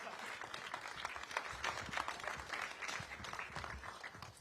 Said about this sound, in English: how about one more round of applause for the vision, the inspiration, just incredible mind behind this